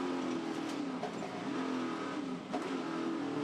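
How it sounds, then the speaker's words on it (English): Onboard engine roar from a 1967 Ford Mustang racing in a muscle car race at Pukekohe, a steady loud drone with small pitch shifts through gear changes and lifts. "On board now is Steve Neuer, the 67 Ford Mustang"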